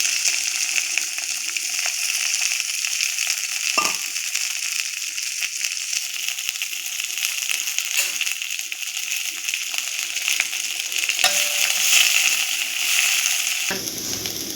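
Sliced okra (ladies finger) frying in oil with mustard seeds and urad dal in a pan, a steady close sizzle running throughout with occasional soft scraping stirs.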